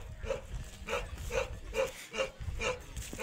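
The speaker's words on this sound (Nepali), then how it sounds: "हाम्रो भोटे कुकुर आमामा के साह्रो भुकेको यस्तो" A Bhote (Tibetan mastiff) barking at a steady, repeated pace, around seven loud close barks in quick succession with no talk over them.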